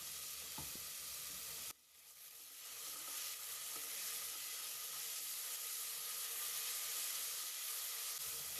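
Onions frying in a pan with a pinch of salt, a soft steady sizzle that briefly drops after a stir, then settles back into an even, quiet hiss.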